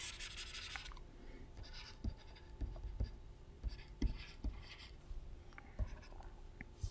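A lecturer writing during a lecture, with faint scratching and rubbing strokes interrupted by soft taps, quiet and close against a low background hum, with no talk.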